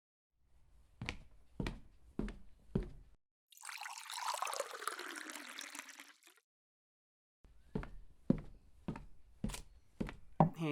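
Hot water poured from a boiled pot to make tea in a historic cottage kitchen, one smooth steady pour of a few seconds set between sharp, evenly spaced wooden knocks or chops, near and fairly quiet.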